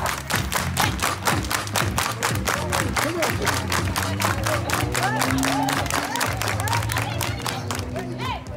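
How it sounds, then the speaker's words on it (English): A crowd at a street protest doing a line dance claps hands in a regular rhythmic beat over loud music, with scattered shouts and cheers mixed in. "Everybody, clap your hands."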